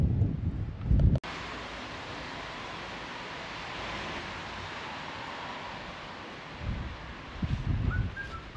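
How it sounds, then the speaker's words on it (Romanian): Strong wind gusting through a forest on a rainy October day, a steady loud roar with rustling that continues for several seconds, with sharp gusts or bumps near the start and end. "E o zi ploasă de octombrie, mult, mult vânt."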